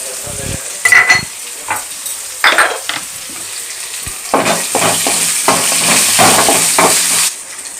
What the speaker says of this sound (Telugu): ఇప్పుడు ఇందులో ఉల్లిపాయలు పచ్చిమిర్చి వేసేస్తాను